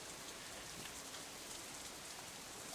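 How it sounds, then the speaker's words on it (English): Rain falls in the visual novel Katawa Shoujo, a soft, even hiss of drops on surfaces that stays constant and fairly quiet with no voices or other sounds. "The rain increases a little more, offended that we haven't fled yet."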